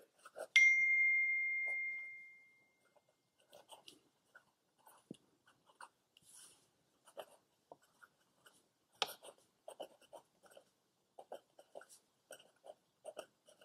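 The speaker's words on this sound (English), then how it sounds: "We're good, Marlon. All right, now this is the Platinum 37 6th Century, straight from Japan. And this is a 14 karat gold nib." Fine 14k gold nib of a Platinum 3776 Century fountain pen writing on paper, a string of soft, close scratchy strokes in short bursts, quiet and alone with no voices.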